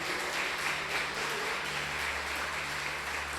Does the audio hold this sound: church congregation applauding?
yes